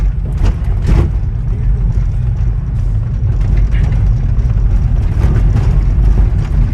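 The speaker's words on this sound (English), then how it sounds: "Purposely driving down a bumpy road right now for you guys." A BMW E36 on coilovers rolls down a bumpy city road, a loud steady low rumble of engine and road noise inside the car with occasional suspension thumps and knocks.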